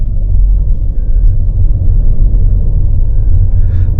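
Toyota HyCross driving along the Bengaluru–Chennai Expressway, heard from inside the cabin: a loud, steady low road and engine rumble with constant tyre drone throughout, no voices.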